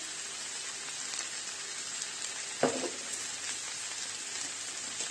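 Zucchini and partly cooked potatoes frying in a pan for a vegetable ragout, a soft, even sizzle throughout with one brief clatter of stirring midway; quiet and without talk.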